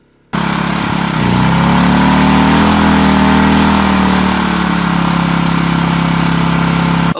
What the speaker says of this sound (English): with the generator just idling outside with all the doors closed